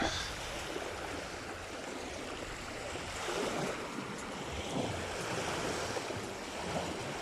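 Waves wash onto an eroded beach, a continuous rushing surf with gentle swells and some wind noise on the microphone, steady and moderately distant, with no voices.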